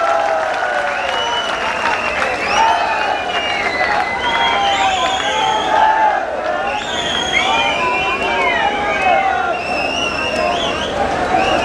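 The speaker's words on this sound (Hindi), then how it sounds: "जोरदार तालियों की गड़गड़ाहट से स्वागत करें।" A large crowd at an outdoor BJP political rally applauds and cheers continuously to welcome Advani, a loud, dense wash of clapping with shouts rising over it.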